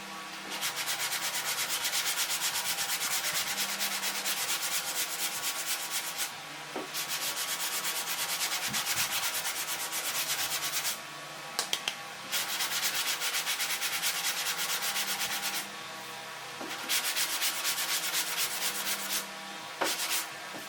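Hand sanding of hardened body filler on the lower wheel arch of a 2016 Dodge Ram, a steady close scraping rub in long strokes broken by brief pauses, with no talking.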